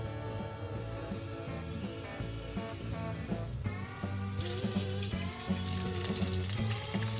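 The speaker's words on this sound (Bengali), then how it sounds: "তেল হয়ে গেছে গরম মাংস হচ্ছে নরম হালকা করে দিয়ে দেবো একটা করে তেলের মধ্যে" Chicken pieces for crispy Hatari-style chicken fry in hot white oil over a low-to-medium flame, giving a continuous soft sizzle mixed with background music.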